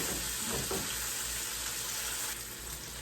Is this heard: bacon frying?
yes